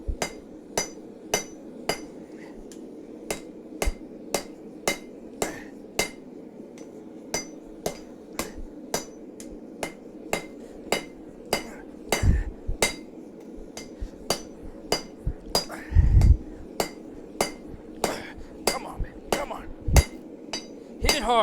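Hammer blows forging a small piece of metal strike in a steady, regular rhythm, sharp ringing impacts about once a second, close and loud, with a few heavier thuds and faint speech in between.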